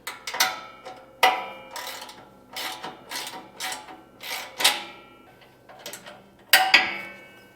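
A ratchet wrench clicks in quick bursts while tightening bolts on a lawn striper, about nine close, sharp ratcheting strokes separated by brief pauses, with no talking.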